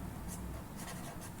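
Pen or chalk scratching across a board during a pharmaceutical analysis lesson on the chloride limit test, with several quick strokes in a row at close range and no talking.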